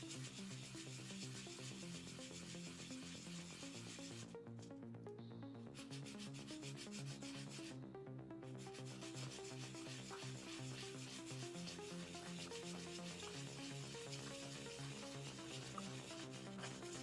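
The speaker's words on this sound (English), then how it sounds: "I'm going to sand this guy down" Steady close rubbing and scraping of sandpaper against a small TRX4 RC crawler shock part on a workbench, continuous throughout with brief pauses in the strokes.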